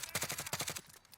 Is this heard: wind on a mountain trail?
no